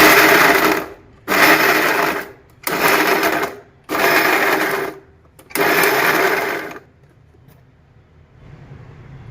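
A mixer grinder pulses ginger and green chillies into a coarse paste for samosa filling. Five loud whirring bursts, each about a second long, are separated by short pauses before the kitchen falls quiet.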